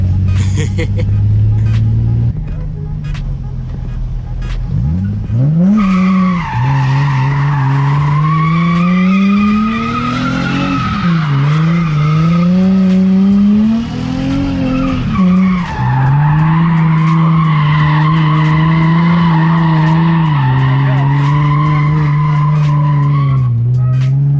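Loud, sustained tire squealing rises and falls in pitch as an Infiniti G35 with a welded differential spins donuts, with engine revving underneath throughout.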